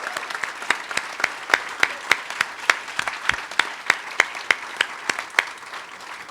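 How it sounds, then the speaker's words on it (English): Audience applause at a university athletics press conference introducing Jim Sterk at Mizzou: a steady patter of clapping with distinct sharp claps recurring at a fairly regular rhythm, moderately loud and without voices. "I want to recognize a couple people that I think deserve a round of applause."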